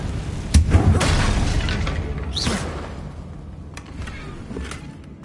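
Confringo blast spell from Hogwarts Legacy bursting with a loud boom and whoosh, followed by a fading rumble and a couple of softer thumps.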